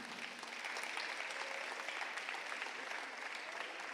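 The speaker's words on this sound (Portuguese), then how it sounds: "Aplauda o Senhor nessa manhã." A church congregation applauds during a morning service, a dense steady wash of clapping filling the space at moderate level with no break for its full length.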